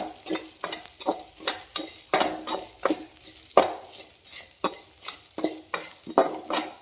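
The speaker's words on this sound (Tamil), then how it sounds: "சும்மா ஒரு ஒரு நிமிஷம் வணக்கினா போதும் ஒரு முப்பது செகண்ட் வணக்கிங்கன்னா போதும் இப்படி வணக்கிட்டே இருங்க" Onions with cinnamon stick and dried chillies sautéed over low heat in a pan, with a spoon scraping and stirring in repeated strokes over a soft, steady sizzle, close and fairly clear.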